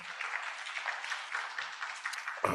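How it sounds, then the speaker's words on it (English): Audience clapping for a speaker introduced at a police accountability panel at a legislative symposium, a brief soft patter of applause that ends with a louder thump or handling noise. "Clap it up for Ms. Jeanette Ortiz."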